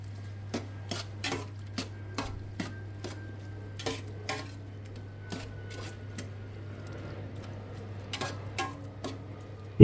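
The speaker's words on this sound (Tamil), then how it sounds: "தக்காளியை சேர்த்துட்டு நம்ம அதையும் நல்லா கிண்டி விட்டுட்டு மறுபடியும் நல்லா மூடி போட்டு மூடிடணும்" Onions and tomatoes are stirred in a cooking pot for a Kerala-style biryani, with a series of sharp, separate spoon scrapes and clinks against the metal over a steady low hum and a faint sizzle, all fairly close.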